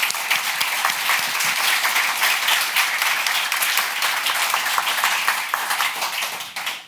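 An audience applauds at a tech podcast stage event, dense sustained clapping from a sizeable crowd that holds steady for several seconds before tapering off.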